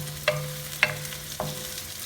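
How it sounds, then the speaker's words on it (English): Shrimp stir fry sautéing in a pan for Indian-style caldinho, a steady close sizzle with three sharp utensil stirs or scrapes spaced evenly across it, no voices. "So let this saute a little bit."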